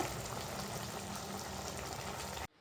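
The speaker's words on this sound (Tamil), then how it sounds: "தண்ணி ஊற்றி வேக வைக்கலாம்" Pumpkin pieces simmer in water in a pot, making a steady, dense bubbling hiss that holds evenly and then cuts off abruptly into near silence.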